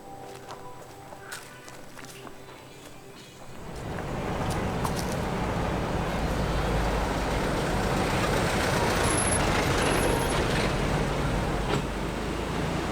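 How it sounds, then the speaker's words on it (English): Buses heading into Dili from the outlying districts roll past on a road in Timor-Leste, a broad rising roar of passing traffic that swells and holds loud after a quieter start. "More buses heading from the districts, probably into Dili."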